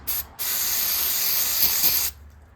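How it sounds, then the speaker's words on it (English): Aerosol carb cleaner sprays through the carburetor of a Cub Cadet 1250 garden tractor in one steady, close hiss lasting about two seconds, with a short burst just before it. "I'll go ahead and spray some carb cleaner through here"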